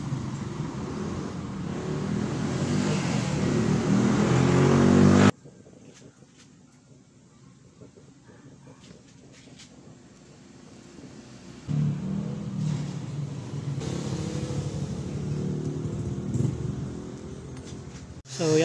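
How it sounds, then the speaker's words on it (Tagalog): A vacuum pump evacuates a refrigerator's sealed system after repair of a punctured evaporator, giving a steady motor drone that is loud at first, drops to a faint hum, then swells back up. "So yan po, nag-vacuum na tayo."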